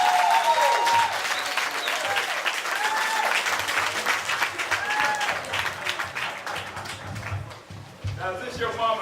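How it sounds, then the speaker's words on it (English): Audience applause, steady and sustained clapping from a crowd, loud and close, with a voice speaking over it. "Give her a big round of applause"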